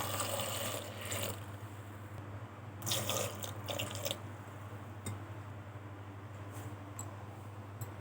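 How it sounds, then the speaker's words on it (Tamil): Tap water runs steadily into a pressure cooker pot while brinjal kadayal is being cooked. The splashing is faint and continuous, with a few brighter gurgles and clinks. "தேவையான அளவுக்கு தண்ணி ஆட் பண்ணிக்கோங்க"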